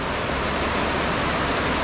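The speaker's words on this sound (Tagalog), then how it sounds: "Solid talaga yung ano, grabe yung ulan, malakas." Heavy rain pours down steadily and loudly, a dense, unbroken hiss filling the whole short stretch with no voices over it.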